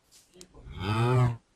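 A cow in the Minecraft video game lets out one loud, drawn-out moo that swells and then cuts off, with a few faint game sounds before it.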